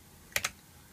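Two quick computer-keyboard keypresses click close together and faintly during an Ubuntu Server install, with quiet room tone around them and no talk.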